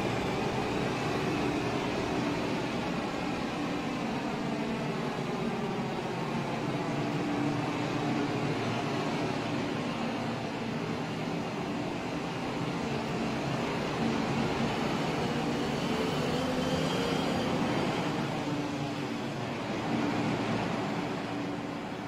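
An MTR East Rail line MLR train in Roblox pulls out of Kowloon Tong station platform 2, a steady, moderately loud rumbling run of wheels and motor that holds evenly throughout with no voices.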